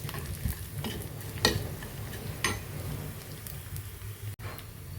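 Onions fry in a pan with a low, faint sizzle while a few scattered scraping stirs sound out, a couple of them sharper than the rest.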